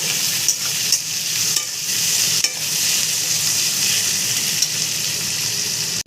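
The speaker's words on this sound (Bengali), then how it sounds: "দিয়ে আমি টমেটোটা ভালো করে ভেজে নেব।" Tomato frying with salt in a pan, a steady close hissing sizzle under repeated stirring scrapes and light taps, even in level throughout.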